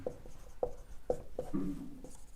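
Pen writing by hand during a constitution lesson: four short, scratchy strokes spaced about half a second apart, then a brief softer rubbing, all fairly faint.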